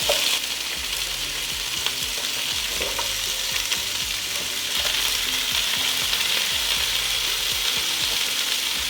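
Vegetables sizzle and fry in a pan alongside turkey giblets for giblet gravy, a steady broadband crackle with occasional scraping stir clinks, close and continuous, no talking.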